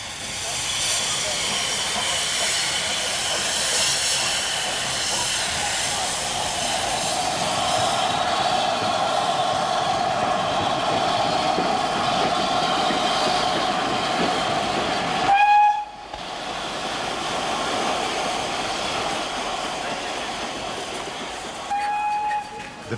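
LMS Princess Elizabeth steam express locomotive runs past in a steady roar of hissing steam and rolling wheels, loud and continuous, with two short whistle blasts near the end and voices faint in the background.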